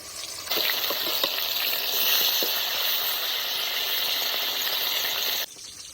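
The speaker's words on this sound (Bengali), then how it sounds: "মাছটা একটু ভাজা হয়ে গেছে, এবার উল্টিয়ে নেবো।" Pieces of silver carp fry in hot mustard oil, giving a loud, even, continuous sizzle with scattered pops that runs for several seconds and then cuts off abruptly.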